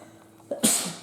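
A single sharp sneeze close up, a short inhale followed by an explosive burst that fades out, with no talk.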